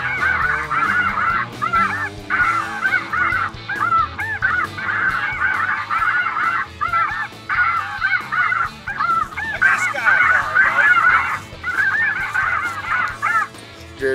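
Geese honk on a goose field during a conservation goose hunt, a dense, continuous chorus of many birds calling in overlapping bursts, loud and fairly close with brief lulls.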